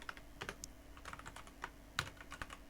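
Quiet, uneven clicking of a computer keyboard as Lua code is typed, with scattered keystrokes and one slightly harder tap near the end, heard alone and close.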